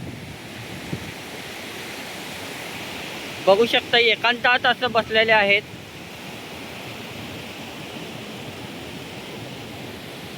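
Waves wash steadily on Tondavali beach, a broad soft roar of surf with wind noise running throughout, while someone speaks briefly in the middle.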